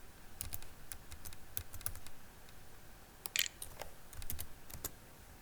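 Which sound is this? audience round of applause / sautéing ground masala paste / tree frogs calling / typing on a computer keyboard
typing on a computer keyboard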